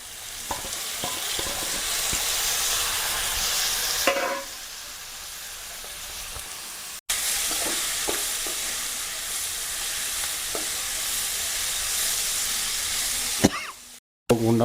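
Broad beans frying in a pan with a pinch of turmeric make a loud, close, hissing sizzle, marked by a few stirring clatters and some brief cuts and dips in level.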